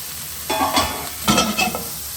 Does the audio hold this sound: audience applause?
no